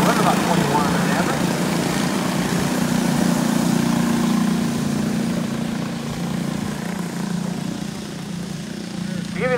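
Small racing go-karts run on a track, engines buzzing steadily at mid-distance with a sustained drone that fades slightly near the end, layered with faint voices.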